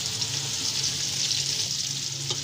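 Onions hiss and sizzle in hot ghee in a pot for beef yakhni pulao, a steady, close frying crackle with one small knock near the end.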